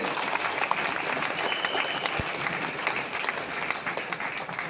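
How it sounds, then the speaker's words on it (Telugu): An audience at a Vestige business seminar applauds with dense, steady clapping that continues evenly throughout at fairly close range. "వీళ్ళ కోసం ఒకసారి క్లాప్స్ ఇవ్వండి"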